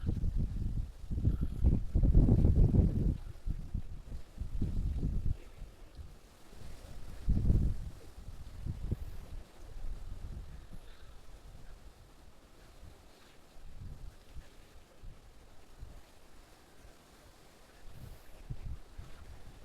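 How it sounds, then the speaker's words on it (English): Gusty wind rumbles across the microphone in uneven bursts, strongest early on, then easing to a lower, fluttering blow. "It is so windy"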